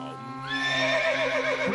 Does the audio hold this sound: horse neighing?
yes